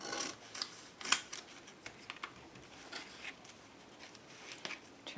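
Scissors trim a paper tag glued onto an altered-book mixed-media page, giving faint, quiet snips and crisp cuts scattered through a soft, rustling background.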